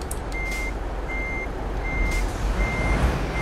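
Reversing beeps from a truck in the video game Euro Truck Simulator 2, a steady high tone beeping four times at an even pace over a low diesel engine rumble, with no talking.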